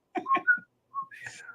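A person whistles a short, tuneful movie melody, a few quick rising notes then a pause and a longer sliding phrase, close and clear with no talking.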